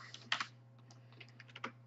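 Uneven bursts of keystrokes clatter on a computer keyboard, soft and close, with a couple of heavier taps among lighter ones over a steady low hum.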